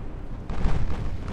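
Battleship guns firing at close range in the naval strategy game Ultimate Admiral Dreadnoughts, one deep muffled boom that rolls out and lingers with no voices.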